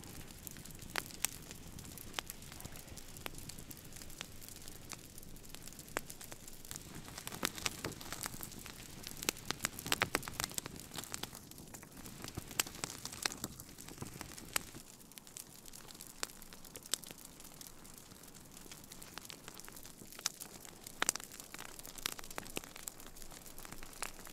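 A sausage cooks over a campfire in the snow at -15°C, with a steady, quiet crackling and light sizzling that continues throughout and no voices.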